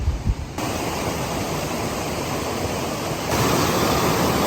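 A cold river rushes steadily through Cocora Valley in Quindío, Colombia, a constant, full, hissing flow of water heard alone.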